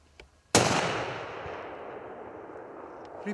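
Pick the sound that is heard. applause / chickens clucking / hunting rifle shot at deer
hunting rifle shot at deer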